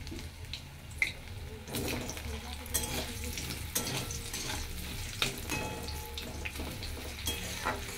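Potatoes fry in a pan for a vegetarian soybean curry, giving a steady low sizzle broken by intermittent scraping and stirring clatter, close and moderately quiet with no voices.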